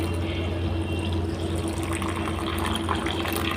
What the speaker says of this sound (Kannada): ಒಂದು ಲೋಟ ನೀರು ಹಾಕ್ತಾ ಇದ್ದೀನಿ